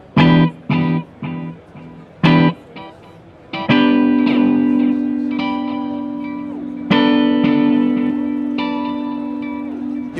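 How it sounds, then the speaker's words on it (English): A Pigtronix Echolution 2 delay pedal in jump mode plays guitar notes whose echo repeats climb in octaves: a few short plucked stabs first, then two long sustained notes ringing out with bright, layered repeats, loud and without talk. "trigger on the remote switch an octave jump on the repeats so that they go up in octaves"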